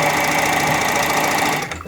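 A sewing machine stitches stretchy knit t-shirt fabric in a steady, loud, close mechanical whir that runs continuously before stopping abruptly near the end.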